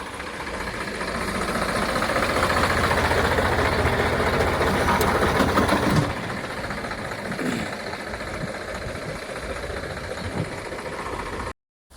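A tractor loader's diesel engine running steadily nearby, a loud continuous rumble that eases slightly partway through before cutting off at the end.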